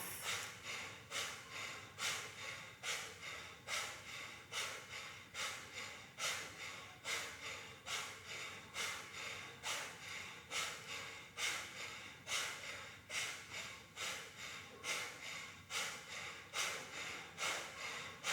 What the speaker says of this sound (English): Powerful breath.